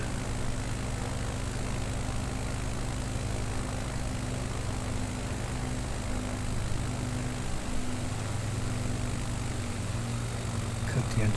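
A small propeller aircraft engine drones steadily and loudly throughout during a bush-flying leg over Nevada in Microsoft Flight Simulator 2020, a continuous hum with no break.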